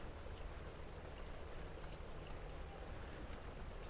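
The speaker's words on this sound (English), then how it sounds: "enjoying the sound of the rain" Steady rain falls, a dense even patter and hiss that continues without a break and with no talking.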